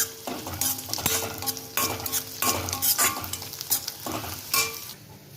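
Curry leaves, sliced onion and green chilli sizzle and crackle in hot oil while a spatula scrapes and stirs the pan in steady repeated strokes, close and loud with no voices.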